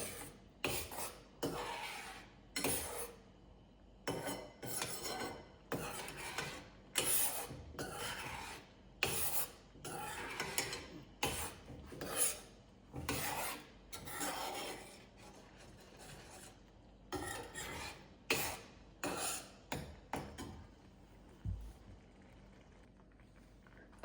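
Ravva kesari (semolina) being stirred in a pan: repeated rasping, scraping strokes of a spoon against the pan bottom in an uneven rhythm, close and fairly quiet, with no talking.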